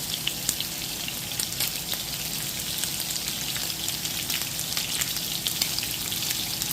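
Onions fry for chicken adobo in a pan, giving a steady, dense sizzle and crackle that runs unbroken for several seconds with no voices.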